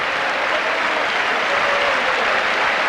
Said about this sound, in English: It's a bit like a football crowd.